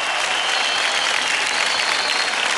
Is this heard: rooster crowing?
no